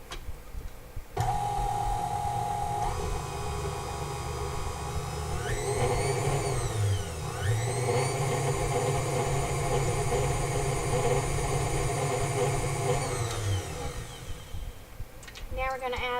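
An electric mixer beats cake batter with salt and vanilla, starting abruptly into a steady motor whine. It shifts pitch and speed partway through, runs for about twelve seconds, then winds down and stops.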